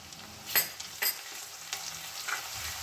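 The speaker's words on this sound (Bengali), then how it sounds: "দিয়ে এটাকে ভালো করে ফ্রাই করে নেব 1 মিনিট মতো আবারও" Onion and garlic paste sizzle in a pan for chicken biryani, with a few scraping stirs of a spoon and no talking.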